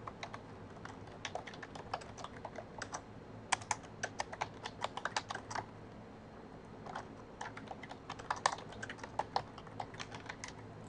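Clicky keystrokes on a computer keyboard, typed in quick irregular bursts with a short pause in the middle, close and fairly quiet with no talking.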